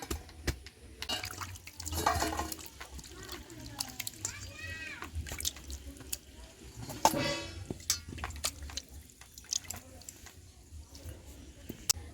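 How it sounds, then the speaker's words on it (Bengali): Small chicken pieces being washed in water in a home kitchen, heard as faint, intermittent splashing and running water, with a couple of louder sloshing bursts. "তো চিকেনটা প্রথমে ভালো করে ধুয়ে নেব"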